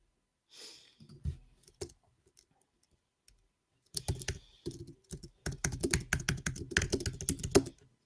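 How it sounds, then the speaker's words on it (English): Typing on a computer keyboard, close irregular clacking with a pause before a fast dense run of keystrokes, plus a faint breath near the start. "You guys may not want to hear the typing."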